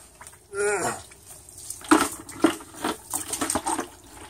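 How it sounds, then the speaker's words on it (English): Water from a home fish tank runs through a Python hose into a bucket, with gurgling, splashing and intermittent sloshing sounds close by, uneven in rhythm and loudness. "So now I got the water going up into the bucket."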